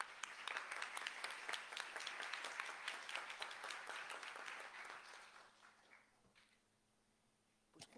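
Applause from the audience at a university book presentation on gender studies, a warm round of many hands that rises, holds, then fades away into quiet room tone.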